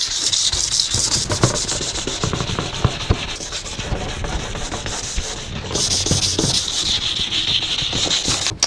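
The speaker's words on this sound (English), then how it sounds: "that is the second light coat done of sanding" Steady hand sanding of a plastic car headlight lens with fine 1500-grit paper, a continuous gritty rubbing that rasps back and forth close by for several seconds without pause.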